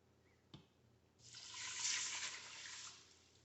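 Water pouring steadily from a measuring cup into an Instant Pot holding dry rice, a soft knock first, then about two seconds of close filling sound.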